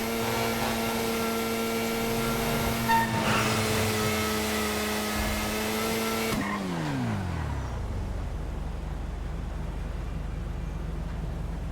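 Nagasaki Stryder motorcycle in GTA Online: a steady engine drone that holds for several seconds, then winds down in pitch to a low idle rumble, with a faint background tone.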